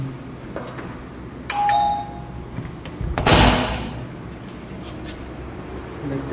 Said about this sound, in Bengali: কলিং বেল দিন।